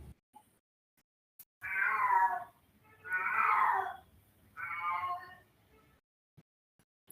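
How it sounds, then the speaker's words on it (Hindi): A cat yowls three times in long, drawn-out wails, each about a second long with short quiet gaps between, loud and close against a near-silent room with faint clicks. "आप लोग को बिल्ली का आवाज पहुंच जा रहा है क्या?"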